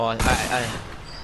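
A rocket launcher explosion in Fortnite, a single sudden boom that rings out and decays over about a second, under overlapping excited player voices.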